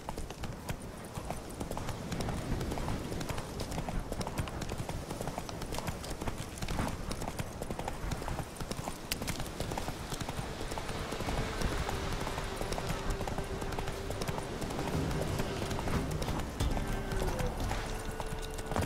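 Rhythmic hoofbeats of a galloping horse run continuously beneath a dense, busy game soundscape, with a brief whinny rising partway through.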